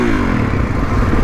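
A brief, close burst of a Kawasaki KX450X dirt bike engine revving, its rising buzzy tone mixed with some clatter and scrape.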